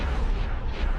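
Weapons fire in the space game X4, a dense run of deep booming blasts and explosions that fill the whole short moment loudly and continuously, with no voices.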